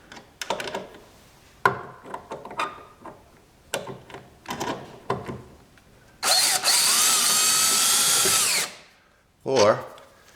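A power drill spins a wing nut tool onto a wing nut with short whirring bursts and clicks, then one long steady whine of about two seconds, followed by a brief final burst.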